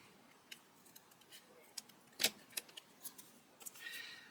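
Scissors cut through card for a twisted ribbon greeting card, giving a quiet, close series of sharp snips and small crisp clicks spread irregularly over a few seconds.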